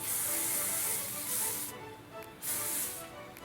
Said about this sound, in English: And then I'll spray it again,